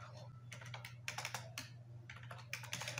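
Keys clatter on a computer keyboard as C++ code is typed, short bursts of close, crisp clicks with pauses between, over a steady low electrical hum.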